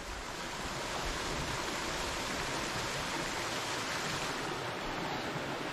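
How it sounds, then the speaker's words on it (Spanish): Arroyo Pérez, a mountain stream with many small falls along the Camino del Peregrino near Villa Benegas, Córdoba, rushing water as a steady, dense broadband roar filling the whole stretch without pause. "Este es el arroyo Pérez sobre el Camino del Peregrino."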